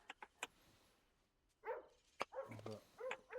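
A baby Cerberus puppy in the video game Disney Dreamlight Valley gives a few short, quiet yips early on, followed by brighter game sounds and chirpy vocal effects.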